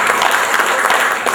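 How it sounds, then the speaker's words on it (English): Audience applause in a hall after an award announcement for a telecommunications department, a dense wash of loud clapping filling the short moment without a break. "A big round of applause for JKR."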